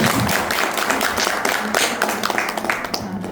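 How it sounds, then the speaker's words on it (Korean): An audience in a hall claps warmly to welcome a guest, dense sustained applause that thins toward the end, with a few separate claps trailing off. "뜨거운 박수로"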